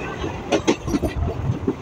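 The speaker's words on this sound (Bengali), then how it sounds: "আমাদের ট্রেন মোটামুটি ছেড়ে দিয়েছে" The Teesta Torsa Express, train 13141, runs after leaving Bandel, heard from on board as a close rumble with rhythmic clacks and knocks of the carriage over the rails.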